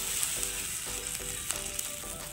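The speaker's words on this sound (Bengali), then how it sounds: "জিরা মরিচ গুঁড়ো, দিয়ে মশলাটাকে আমি একটু কষিয়ে দেবো।" Spice paste of cumin, chili and pepper powder frying in a pan for a fish curry, giving a steady close sizzle with faint stirring taps and no talking.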